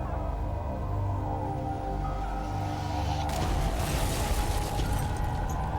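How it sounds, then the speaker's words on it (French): A bomb explodes at an FBI office. A low rumbling drone is broken by a sudden loud blast, followed by sustained crackling debris noise. "Une puissante explosion secoua le bureau du FBI."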